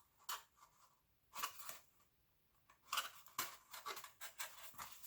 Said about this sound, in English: using your scissors or craft knife, but ask your adult helper, go ahead and cut those eye holes out.